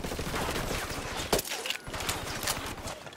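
Gunfire in the game Ghost Recon Wildlands: rapid, rhythmic automatic shots volley steadily, with a brief sharp crack and a short lull midway before the firing resumes.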